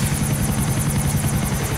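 Helicopter in GTA IV: The Lost and Damned, a steady loud rotor thump and engine whine holding close throughout with no break.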